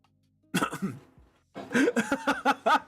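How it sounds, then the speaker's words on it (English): A short cough-like burst, then a pause and a run of quick throaty bursts, close and fairly loud, with no clear talk. "Awkwardly coughs."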